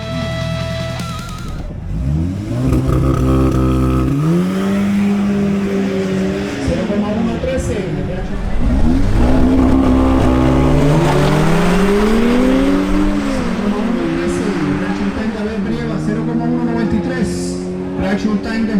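An Audi S3 and an Audi SQ5 launch side by side in a quarter-mile drag race, their engines revving hard and climbing through repeated gear changes, loud and close, with a commentator talking over them.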